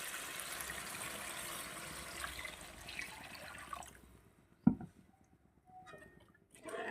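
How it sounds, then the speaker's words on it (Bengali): Water poured into frying masala for a koi fish curry, a hissing, rushing pour for about four seconds that cuts off into quiet, followed by a sharp knock and faint drips. "এই পর্যায়ে আমি দিয়ে দেব পরিমাণ মতন জল"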